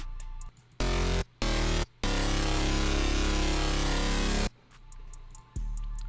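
A loud, deep synth bass plays sustained notes in short bursts with abrupt cuts between them, dry and buzzy with no effects.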